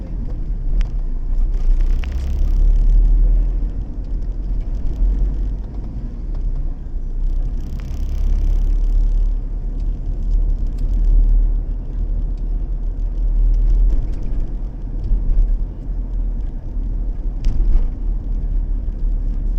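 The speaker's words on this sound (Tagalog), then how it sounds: "Mga big time po yung mga sasakyan dito." Heavy traffic rumbles along a busy street near EDSA, with a constant low roar of engines and several cars whooshing past loudly and close at intervals.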